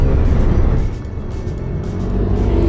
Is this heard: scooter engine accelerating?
yes